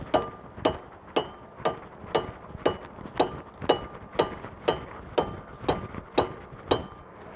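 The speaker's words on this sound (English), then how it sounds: "Again, using your mallet, gently tap in." A mallet taps a pulley onto a Toro Dingo track drive with about fifteen evenly spaced, sharp knocks. The strikes are moderately loud and close, with a faint metallic ring and no talk.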